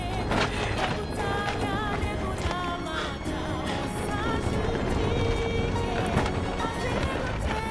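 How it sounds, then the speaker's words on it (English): Strong wind roars continuously across an exposed slope on Mount Kilimanjaro's Machame Route, buffeting the microphone with gusty rumble and hiss throughout. "That sound is the wind."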